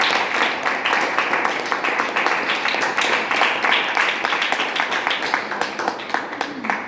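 A church congregation claps hands together in a steady, dense burst that lasts several seconds. The clapping is loud and close, with a few voices mixed in.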